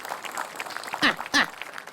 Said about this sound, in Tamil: குழந்தைக்கு கைத்தட்டல் கொடுங்க.